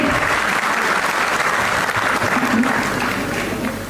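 Loud, sustained applause fills a Republic Day award ceremony honouring delegates from across the country, a dense steady clatter of many hands that holds throughout and eases slightly at the end.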